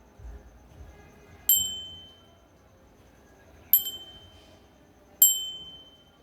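Metal bell struck three times at even intervals, each strike a bright ring that decays slowly and lingers for a second or more in a quiet room.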